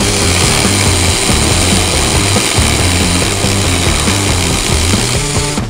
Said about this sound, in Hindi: भाई साहब ड्रिल मशीन से लकड़ी कट गई पहली बार